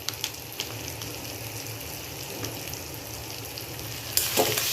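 Masala with Kashmiri red chili powder fries and gets stirred in a pan, a soft steady sizzle close by with occasional spoon taps, then a louder hiss at the end; nobody speaks.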